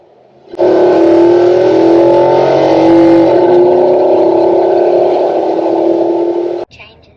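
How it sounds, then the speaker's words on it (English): A Nissan Patrol Y62 V8 accelerates at full throttle from a standstill with the windows down, a loud, steady engine roar heard from inside the cab that rises and holds for about six seconds, then cuts off abruptly. "This is 0 to floor in it with windows down."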